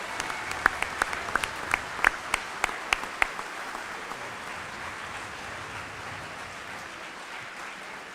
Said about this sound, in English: Let's have another round of applause for the Patriot paratroopers that brought the flag in.